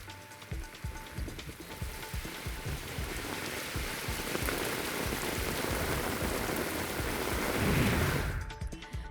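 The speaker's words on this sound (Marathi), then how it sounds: "वादळी वाऱ्यासह जोरदार पाऊस झाला" Heavy rain pours onto streets during a storm with strong wind, a steady dense roar with loud spattering drops, swelling near the end before easing off.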